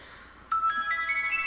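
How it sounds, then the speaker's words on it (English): A phone ringtone starts abruptly and plays a bright electronic melody of short tones that step upward, steady and fairly close, with no one talking over it. "if my phone would shut up"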